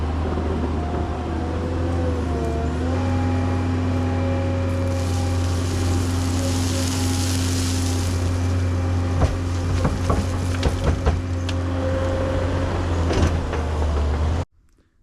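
A skid steer loader's diesel engine drones steadily and loud while working a pump track in the woods, with a deep constant hum, a brief rise in pitch, and scattered clanks and knocks.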